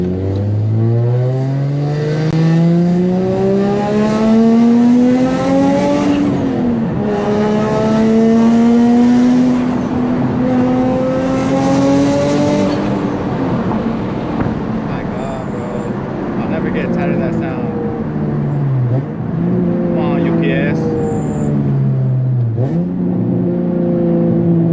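A single-turbo Nissan 350Z HR heard from inside the car on the road, its engine climbing in pitch through repeated hard accelerations, then dropping at each shift, with lighter, choppier throttle and flutter-like bursts later on.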